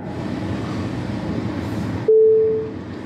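Train noise at Florida station rumbles steadily, then a sustained horn tone sounds near the end, loud and alone without talk.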